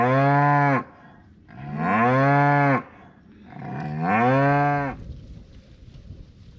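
Cattle on a windy farm give three long, loud moos close by, each one rising and falling, with wind noise between the calls and no talking.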